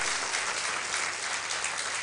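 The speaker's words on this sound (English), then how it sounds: "Oh, how you are clapping." Dense, continuous crowd clapping at a live summit event in Africa, a steady wash of many hands heard throughout without voices on top.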